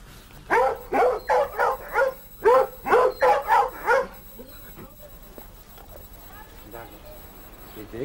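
Two-month-old Rhodesian Ridgeback puppies bark in a quick run of about nine close, loud yips and barks, then fall to faint scattered whimpers and yaps over a quieter background.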